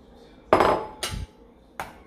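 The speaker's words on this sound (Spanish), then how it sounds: "Voy a agregar el jitomate ya picadito." Chopped tomato is added to a thick salsa in a wide glass dish, three separate soft clattering thuds, the first the loudest, with quiet pauses between.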